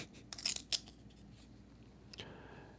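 Stuck glossy 1991-92 Pro Set Platinum hockey trading cards are peeled apart, giving a few quick crackling, tearing bursts close up, followed by a fainter rustle of handling.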